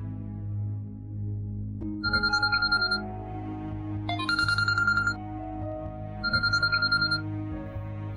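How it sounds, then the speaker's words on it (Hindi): A telephone rings in three separate electronic trilling bursts, fairly loud and alone, with a low hum underneath and no talking. "लीजिए आपकी प्यारी जेठानी का टेलीफोन आ गया।"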